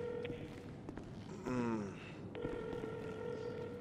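A phone rings in the video game GTA during roleplay, with a repeated electronic tone under a short burst of voices and a brief pitched call, heard at moderate level through background game noise.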